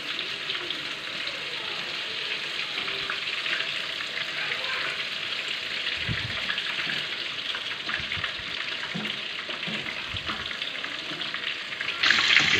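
Chicken pakoras deep frying in hot oil over a medium flame, a dense, steady bubbling sizzle close by with occasional light knocks, continuing evenly without speech.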